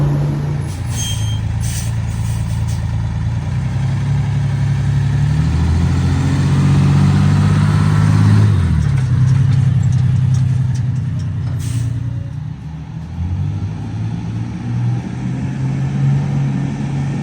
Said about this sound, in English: truck is up, it's running, batteries got put in, started right up like a champ